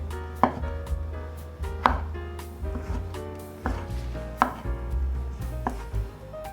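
A knife dices fresh shiitake mushroom on a cutting board in a vegan home kitchen, giving steady, close, rhythmic chopping strokes with sharp board knocks and no talk.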